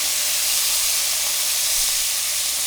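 Food for a shepherd's pie hits a hot pan with a loud, continuous broad hiss and sizzle that holds steady and close throughout, with no talking.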